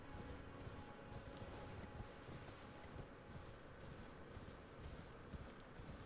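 Hooves of a mount, a double-jumping goat, in the Elden Ring video game beat in a quick, steady clip-clop rhythm under constant wind-like rushing noise, soft and continuous.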